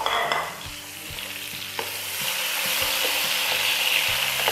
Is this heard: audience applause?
no